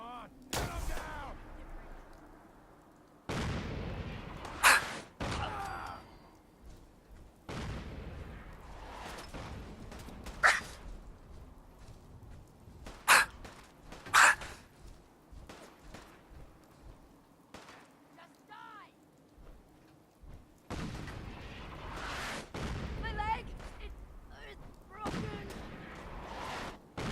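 Artillery and gunfire in Fallout 4 boom and crack in heavy bursts, with loud blasts rolling into long decaying rumbles, separated by quieter stretches and spoken voices between volleys.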